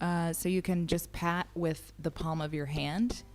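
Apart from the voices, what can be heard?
None of the usual background noises is heard.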